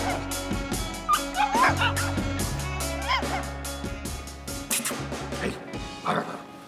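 Puppies yipping and whimpering in a run of high, squeaky yelps and soft whines close by, over a steady low background hum.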